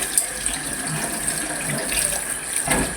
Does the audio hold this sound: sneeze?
no